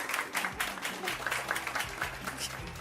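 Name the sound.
studio audience clapping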